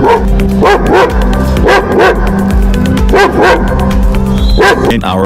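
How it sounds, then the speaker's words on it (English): A Bullmastiff and a German Shepherd bark loudly and close by, with deep, powerful repeated barks in uneven bursts over a constant background hum. "Powerful and loudest bark? Let's hear it first and we'll decide accordingly."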